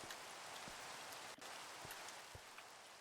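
Steady Minecraft rain hisses evenly across the whole stretch, a dense broadband wash with occasional soft thumps of drops, constant and close with no speech.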